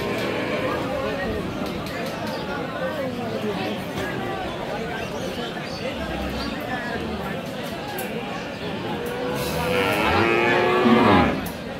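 Friesian and Jersey dairy cows at a busy cattle market in Aftabganj, Dinajpur, with low moos rising near the end over a constant crowd of voices talking and haggling throughout.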